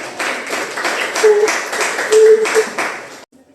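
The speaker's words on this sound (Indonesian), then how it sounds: "tepuk tangan dulu untuk melati" Classroom of students clapping for a group about to present, a close, moderately loud patter of clapping with a few distinct rhythmic claps, a voice briefly audible, cutting off abruptly at the end.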